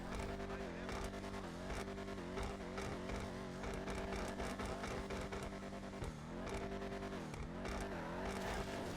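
Vapid Dominator GTX muscle car from GTA Online revving loudly in repeated rising and falling bursts, with a short spoken remark partway through.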